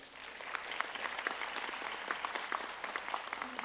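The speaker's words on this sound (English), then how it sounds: "And again, a round of applause for Dr." Applause at a hospital residency award and graduation ceremony honoring a physician, a moderate crowd clapping with distinct individual claps, steady and fairly close throughout.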